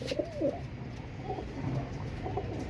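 A pair of pigeons coo softly in a few short, throaty phrases close by, over a low background hum.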